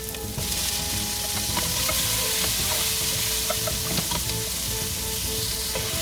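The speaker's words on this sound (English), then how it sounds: "Continue sauteing the garlic, onions, and the tomatoes until the tomatoes will be tender." Garlic, onions and sliced tomatoes sauté for chicken calderita, giving a loud, continuous close-up sizzle with occasional light stirring taps and clicks throughout.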